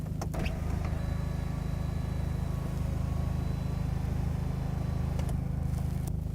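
A BMW GT's panoramic sunroof motor runs with a steady low electric hum that holds throughout. A few faint clicks come at the start and near the end, and no one talks.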